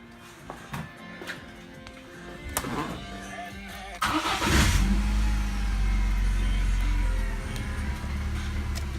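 A Saturn car engine cranks and catches after new spark plugs, then settles into a steady, rumbling idle, heard close up after a few clicks and knocks.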